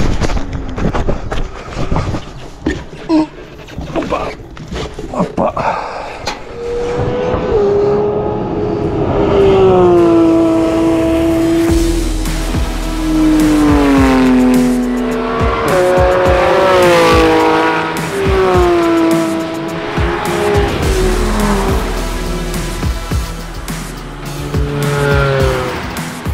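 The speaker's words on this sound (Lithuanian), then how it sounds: "Atvažiuoja Porsche'as, tai nedaug laiko turim." Porsche race car passing on the Nemunas Ring track, a loud engine note rising and falling in pitch as it approaches and sweeps by over several seconds, with tire noise, heard alone without talk.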